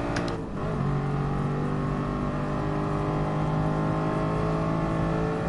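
A GT race car in Gran Turismo Sport, driven in FIA GT Nations Cup practice, roars at a steady high rev, loud and continuous, with a brief dip near the start like a quick gear change.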